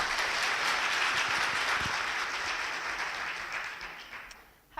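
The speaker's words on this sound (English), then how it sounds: "Big round of applause, please, for Svetlana." A conference audience at Voxxed Athens 2017 applauds to welcome a speaker, dense sustained clapping that stays strong, then thins and fades out near the end.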